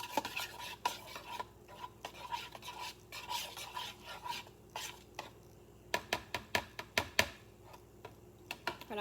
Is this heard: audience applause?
no